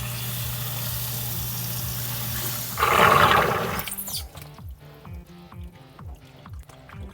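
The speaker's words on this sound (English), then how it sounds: "So let me manually activate the pump and I can show you how low it can pump it." A basement sump pump, part of a full-service waterproofing system, switched on manually: steady water noise with a broad rushing surge midway, then a rhythmic series of short pulsing thumps and splashes as it pumps down, close and alone.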